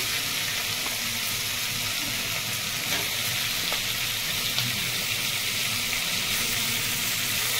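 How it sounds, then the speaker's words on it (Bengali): Potatoes dropped into hot oil fry with a steady, dense sizzle that carries evenly throughout, close and fairly loud, with no talking. "আমি আলু দিয়ে দিচ্ছি।"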